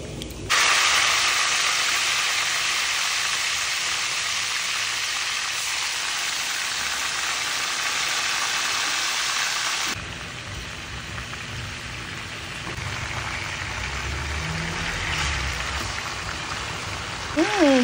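Chicken inasal frying in a pan of hot oil over medium heat, a loud steady sizzle and hiss that stays continuous throughout, dropping slightly in intensity partway through.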